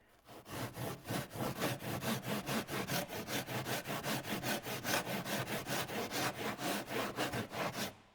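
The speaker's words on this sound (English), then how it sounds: "And it just sands it off really, really well" Foam engine cowl being sanded by hand, a steady rhythmic rasp of back-and-forth strokes, close and loud, repeating evenly about three times a second throughout.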